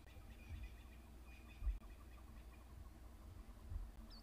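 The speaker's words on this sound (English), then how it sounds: "It's not the dawn chorus now, but the birds are still chirping." Faint, distant bird calls and soft clucking at a safari waterhole in the morning, sparse and intermittent over low background noise.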